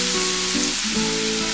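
Chopped garlic sizzles in hot oil in a pan, a steady bright frying hiss that stays loud and even throughout with no talk.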